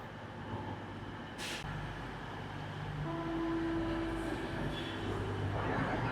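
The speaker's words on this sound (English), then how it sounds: "But there's the Thameslink train here." A Thameslink train sits at a station platform, giving a steady low rumble with a faint tonal whine rising partway through and a brief hiss of air near the start, heard alone without speech.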